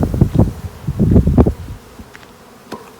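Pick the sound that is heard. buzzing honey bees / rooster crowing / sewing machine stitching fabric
buzzing honey bees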